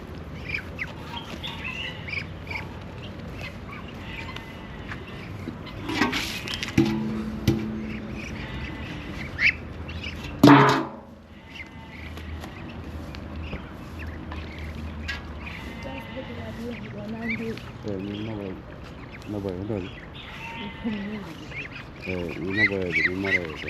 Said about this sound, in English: I got my Muscovy ducks